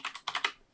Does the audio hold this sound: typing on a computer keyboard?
yes